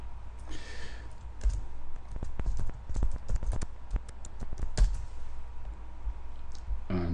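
Computer keyboard keys tapped while entering text in PowerPoint, a scattered run of sharp clicks at uneven intervals over a low background hum.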